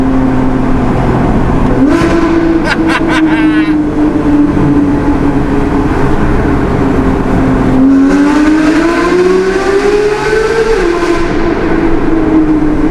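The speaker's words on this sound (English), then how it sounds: "It does not stop revving." A Porsche GT sports car engine revs hard and long, pitch rising steadily with a brief lift near the start, while a voice talks over it.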